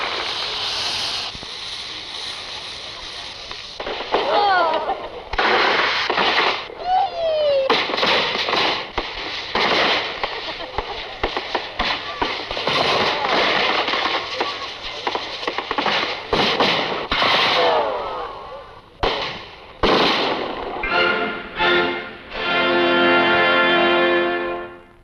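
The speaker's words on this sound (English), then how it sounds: "all movies about wonderful Copenhagen have to end with the fireworks at the famous Tivoli" Fireworks over Tivoli Gardens in Copenhagen burst loudly and continuously, a dense run of cracks, bangs and whistling rockets with crackling volleys, ending in a rapid finale of rattling pops.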